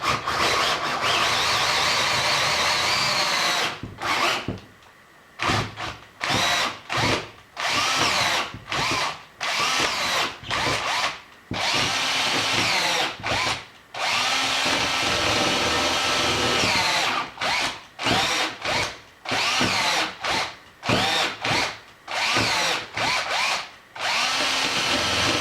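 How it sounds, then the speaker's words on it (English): A power drill bores out brass to a number 3 size on a belt disc sander being rebuilt, running in repeated bursts of high whine separated by short pauses and stops. "I got to drill it out to a number 3."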